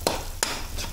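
A spatula scrapes through garlic and onion sautéing in a pan, two sharp stirring scrapes and a softer third over a faint, steady sizzle, up close with no voices.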